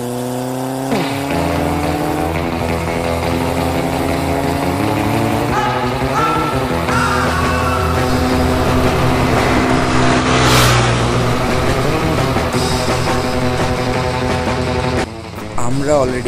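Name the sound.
motorbike engine at high speed while racing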